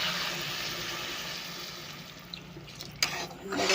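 Water is poured into a pan of Bengali bata fish curry with fried potatoes, a faint, steady hiss of liquid that fades over a few seconds, followed by a light clink near the end.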